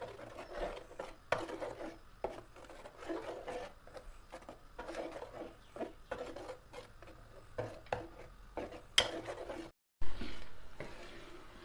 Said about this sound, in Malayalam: അടിയിൽ പിടിക്കാതിരിക്കാൻ വേണ്ടി ചെറുതായി ഒന്ന് ഇളക്കി കൊടുത്തുകൊണ്ടിരിക്കുക